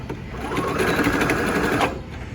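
A sewing machine stitches a quilted tote in one steady, fast, loud run that stops abruptly near the end, with no talking over it.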